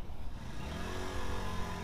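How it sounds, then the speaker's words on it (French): A small motor vehicle engine hums and drones nearby, its pitch gradually shifting as it passes, steady and moderately loud with no voices. "Il y a le scooter maintenant."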